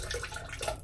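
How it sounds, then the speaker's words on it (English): A synthetic shaving brush dunked into water before lathering Barrister's Reserve shaving soap gives a short, close watery splash and slosh, loud and alone throughout. "Synthetic brush. Dunked in water,"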